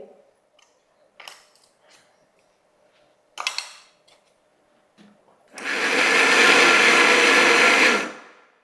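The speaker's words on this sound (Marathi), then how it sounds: "मिक्सरला कशी दोन वेळा लावली आहे" A few clicks and clatters, then a kitchen mixer grinder grinding garlic and coconut for chutney whirs loudly for about three seconds before winding down.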